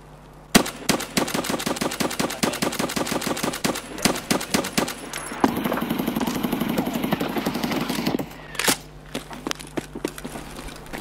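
Automatic rifle fire in Escape from Tarkov, a long run of sharp rapid shots followed by a brief louder burst of mechanical noise and a few final scattered shots, close and dominant.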